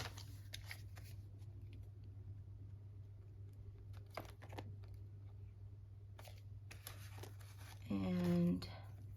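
Paper cash bills are riffled and counted into budget envelopes, with soft crisp flicks and rustles under a steady electrical hum and quiet talk, ending in a louder brisk shuffle of notes near the end.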